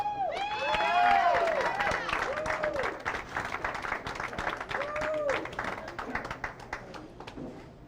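A crowd cheering section applauds and whoops at a ladies bowling championship at Central Lanes: dense steady clapping with shouts and excited voices, lively and sustained throughout, close and full.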